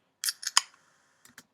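A beverage can snapped open, a few quick crisp clicks and a short hiss burst, then a couple of faint trailing clicks in near silence.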